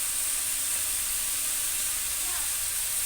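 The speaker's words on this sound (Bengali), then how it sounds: "এবারে যে ধুয়ে রাখা চাল আমি এখানে দিয়ে দিচ্ছি" Washed jeera rice is tipped into a hot pan and sizzles with a steady, loud, even hiss from start to finish, with no talking.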